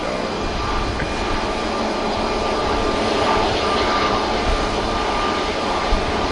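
An airliner touches down at Manchester Airport, its engines giving a steady, loud roar that holds evenly at moderate distance, with a faint tonal whine running through and no talk.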